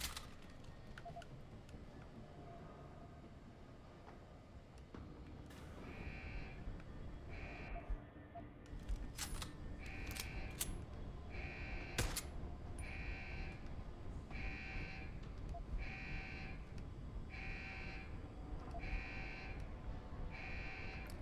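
A rhythmic electronic alarm pulses repeatedly in the video game Deus Ex: Human Revolution, regular bleating beeps sounding over game background noise after a few sharp bursts, with no talk.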